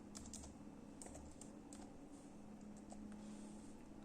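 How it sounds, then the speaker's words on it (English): Rapid keystrokes on a computer keyboard as a web address is typed into a browser during a computer class lesson, soft close clicks in a steady, uneven rhythm over a low background hum. "type the address of the web page and then press the enter key"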